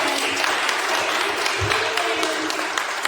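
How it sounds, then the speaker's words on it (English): People at a Buckhead real estate investment mixer give a round of applause, a continuous wash of clapping at even loudness throughout. "So can we give them a round of applause?"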